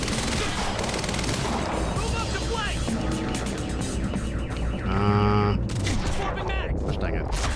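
Gunfire in the shooter Quantum Break: sustained bursts of automatic fire and explosive effects under a dense game soundtrack, loud throughout, with a player talking over the action.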